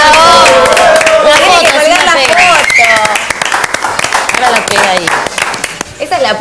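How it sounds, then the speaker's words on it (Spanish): An audience in a TV interview studio claps loudly, dense hand claps close by throughout, while voices shout and talk over the applause. "¡Un aplauso!"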